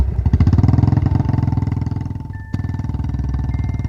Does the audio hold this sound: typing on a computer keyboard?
no